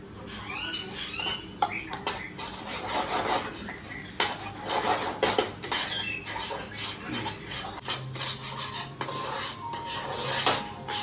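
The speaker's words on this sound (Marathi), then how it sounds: "मंडळी, आपलं बटर मेल्टेड झालेलं आहे. आता याच्यात आपण मैदा टाकूया." Flour stirred into melted butter in a pan for pasta, with repeated scraping and rasping strokes of a utensil against the pan in an uneven rhythm, close and fairly loud, no talking.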